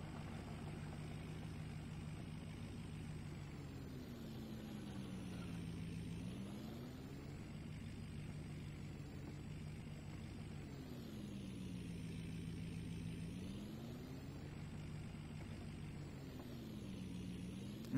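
A Ford F350 plow truck engine in a farming simulator, plowing snow: a steady, continuous engine drone with slow rising and falling pitch as the revs shift, fairly loud and alone.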